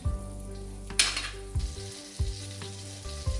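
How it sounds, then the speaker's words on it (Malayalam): Butter melts in a pan for an Afghani omelette with a soft sizzle and a brief louder hiss, while low, repeating tonal hums and thuds sit underneath, with no speech. "അപ്പോൾ നമുക്ക് ഈ ബട്ടർ ഒന്ന് മെൽറ്റ് ആകുന്നത് വരെ വെയിറ്റ് ചെയ്യാം."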